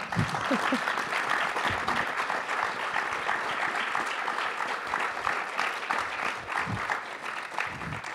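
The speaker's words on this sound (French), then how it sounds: "vous avez le droit, bien sûr, d'applaudir vigoureusement" An audience applauds couples walking onto a stage, with sustained, moderately distant clapping from a large crowd, even and unbroken from start to finish.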